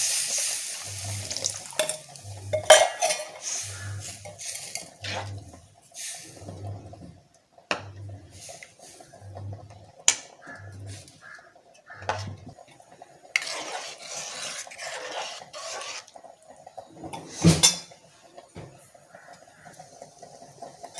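A utensil scrapes and stirs taro root in a pan in a series of short, evenly spaced strokes, with faint sizzling and clinks, fairly quiet and close.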